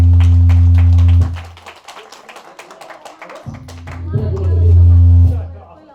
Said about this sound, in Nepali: हजुर सबैले करताल ध्वनिको साथमा ताली बजाएर स्वागत गर्नुहोला।